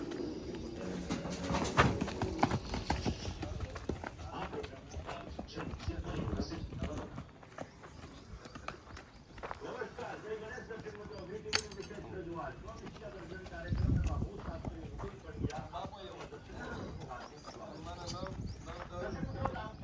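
Hooves of a Marwari mare clip-clop at a farm, steady and close, while people talk over them and pigeons coo in the background.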